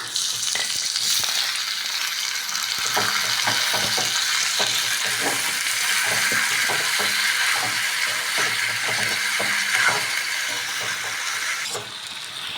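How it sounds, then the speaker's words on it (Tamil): Tomatoes cooking with onions in a hot pan, a loud, steady sizzle that runs throughout, broken by frequent stirring clacks of a spoon against the pan, with no voices. "இப்போ தக்காளி நல்லா வெந்துட்டுருக்கு"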